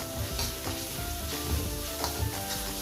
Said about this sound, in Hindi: टमाटर अच्छे से भुन गया है और अब मैं इसमें डाल रही हूँ 1 टीस्पून कसूरी मेथी।